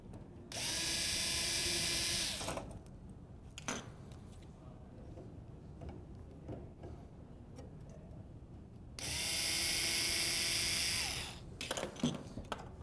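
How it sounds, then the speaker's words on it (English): A power drill or driver backing out two screws from a lid retrofit kit: two separate bursts of high whirring, each about two seconds, with quiet handling clicks between them. "To do that, you're going to unfasten two screws."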